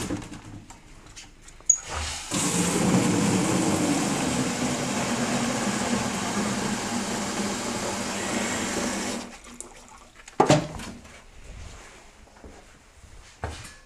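Water gushes steadily from a tap into a pot for cooking pig feed on a farm on a cold day, a loud continuous splashing lasting about seven seconds, followed by clanks and handling noises.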